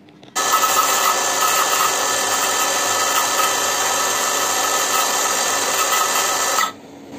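An INGCO CSLI 1651 cordless circular saw spins up and runs free at a steady high-pitched whine, loud and close, then winds down near the end, with no talk.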